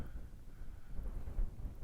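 Low, gusty wind rumbles and buffets against the microphone at a wild campsite in the Peak District, a steady blustery roar with a slightly stronger gust near the end.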